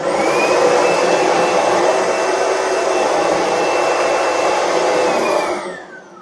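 A loud, steady upright vacuum cleaner roar with a high whine runs continuously, then winds down near the end as the motor shuts off.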